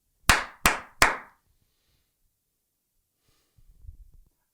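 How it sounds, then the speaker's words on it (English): Three sharp, loud hand claps in quick, even succession, each ringing out briefly before the next. Near silence follows, then a faint, breathy rustle near the end. "Actually, next time, please don't clap so loud."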